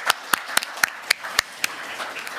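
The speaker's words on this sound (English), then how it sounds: "please give another big round of applause" Audience at a defense conference panel session clapping for the panelists, a sparse, evenly spaced run of about eight to ten sharp claps with a quiet background between them.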